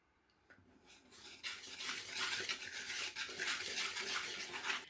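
Dry ingredients with nutmeg for an eggnog pound cake are stirred in a bowl, a steady close scraping and rubbing that starts quietly and grows louder and continuous after the first second.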